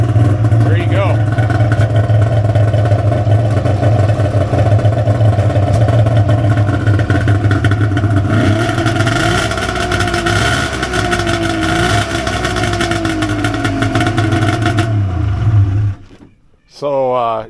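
A 1996 Polaris SP vintage snowmobile engine runs steadily at a loud, close idle with a low droning rumble and rising revs partway through, then cuts out briefly near the end.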